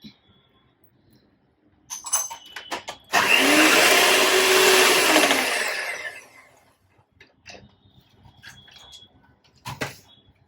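Blender whipping a pineapple souffle mixture, a loud steady whir of about three seconds that rises and winds down, with scattered clinks and handling noises before and after.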